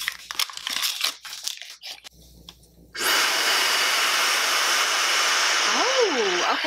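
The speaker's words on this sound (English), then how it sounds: "The handle is also wrapped in paper." Paper wrapping crinkles and tears as it is pulled off a Fentgo high-speed ionic hair dryer, close and busy, then the dryer switches on with a steady loud whoosh of blowing air.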